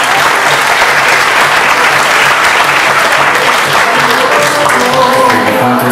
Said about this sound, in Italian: Un applauso per Jessica.